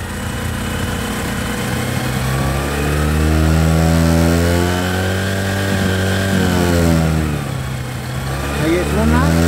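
Motorcycle engine held at full throttle during carburetor adjustment, a loud sustained rev with pitch swelling and sagging slightly, close by with no talk over it.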